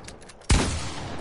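A single loud crack from a hunting rifle in Fortnite, fired once after a brief quiet lead-in and trailing off in a long echoing tail.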